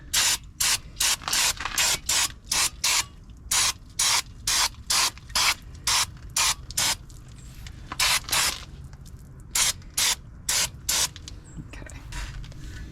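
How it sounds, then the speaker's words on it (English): Brake parts cleaner sprays in a long series of quick, sharp hissing bursts onto the rear brakes of a Chevy Colorado or GMC Canyon pickup, loud and close, with short gaps between blasts. "I'm going to use some brake parts cleaner and just kind of wash some stuff down here"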